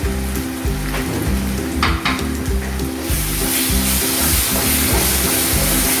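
Poppy seeds frying with browned onion in a home kitchen pan give a loud, steady sizzle, a dense crackling hiss that holds throughout, with a few soft stirring scrapes and no voices.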